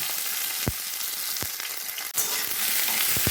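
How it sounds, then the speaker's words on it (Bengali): Okra and potatoes fry in hot oil with mustard seed and green chilli, giving a loud, constant sizzle. A few dull knocks of stirring break in partway through, and no one speaks. "এবারে আমি ভেন্ডি আর আলুগুলো ছেড়ে দেবো, দিয়ে ভেজে নেব।"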